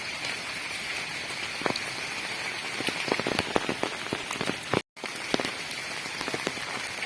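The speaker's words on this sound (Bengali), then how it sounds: "সবজি বাগান বৃষ্টি পড়ছে এখন" Steady rain falls on a vegetable garden, with a dense patter of drops and sharper individual drips close by, continuous apart from a brief cut-out.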